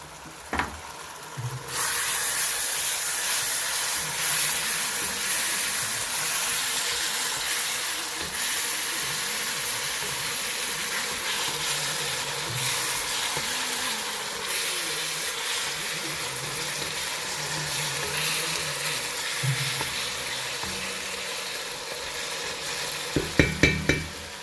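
Desi ghee heats in a pan at home with a steady, close hissing sizzle that starts abruptly and holds evenly. A few utensil clinks land near the end, with no talk.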